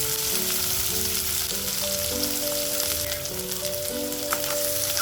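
Sliced onions fry in oil in a pan, giving a steady close sizzle and crackle that lasts the whole time, with faint tonal hum underneath and no talking.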